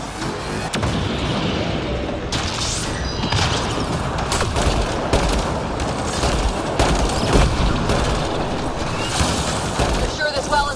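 Turret gunfire in Mass Effect Andromeda, dense rapid bursts of shots and blasts with booming impacts that continue throughout, while voices talk over the battle.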